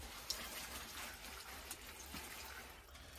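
Water is poured from a watering can onto tomato seed trays before sowing, a faint, steady trickle and splash with no speech.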